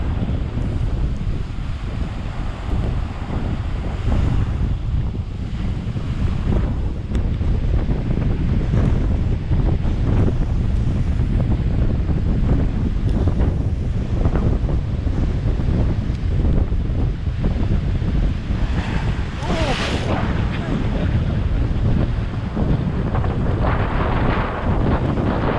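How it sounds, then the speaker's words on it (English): Tropical storm winds roar steadily across the microphone with heavy ocean surf pounding beneath, a loud, continuous buffeting broadband rush on Grand Cayman's coast with no one speaking. "Windy, wet day. Massive seas too."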